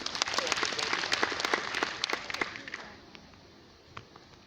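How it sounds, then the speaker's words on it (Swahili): A large audience at a political gathering at Bomas of Kenya claps loudly and densely for about three seconds, then the applause quickly thins out to a few scattered claps under the hall's ambience. "Wapigie makofi wale."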